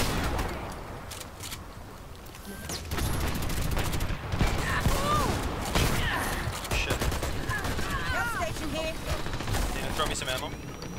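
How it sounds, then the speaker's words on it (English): Gunfire in the online shooter Dirty Bomb, including shotgun blasts, a dense run of sharp cracks and bursts over game effects, with players talking in between. "I'm hitting him with a shotgun"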